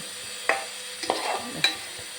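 Chicken curry masala with chilli, coriander and turmeric powders stirred in a pan, a low sizzle broken by a few sharp scrapes and knocks of the spoon.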